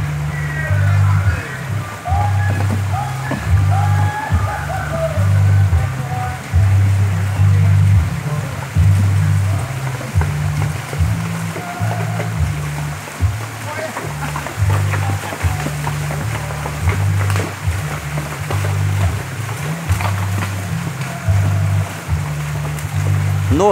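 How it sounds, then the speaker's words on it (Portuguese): Horses and riders wade through a shallow stream on a rural trail near Serra Verde, making continuous rushing and splashing water sounds. A loud, low rumble and talking run underneath throughout. "Os cavaleiros e amazonas se aproximando e passando dentro do córrego."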